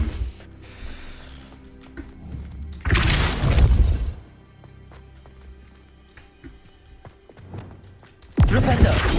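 A Depulso spell cast in the Hogwarts Legacy video game, heard as loud whooshing blasts, one near the middle and another at the end, with quieter game sounds and speech between them.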